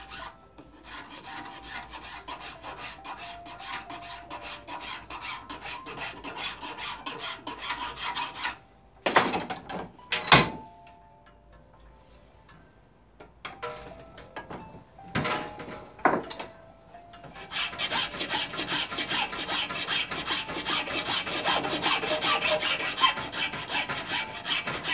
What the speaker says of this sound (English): we're going to finish off with a file. It's quite a fine file.